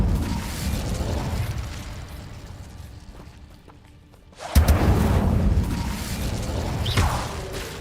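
Incendio fire spell cast in Hogwarts Legacy, a sudden whooshing burst of flame after a quiet lull, then a sustained crackling roar of fire.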